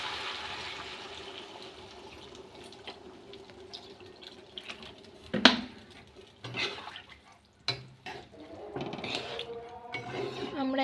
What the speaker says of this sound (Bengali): আমরা এবার আলুটা সিদ্ধ করার মতো জল ঢেলে দিলাম।